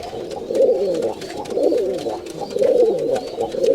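Rajshahi Giribaz high-flying pigeons coo in repeated rolling bursts, fairly close and steady throughout, with no talk.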